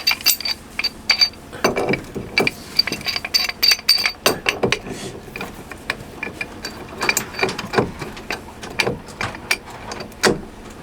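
Two wrenches work a packing gland nut of almost two inches aboard a Catalina Capri 26 sailboat, giving repeated metallic clicks, ratcheting and clinks in irregular close bursts, with no talk.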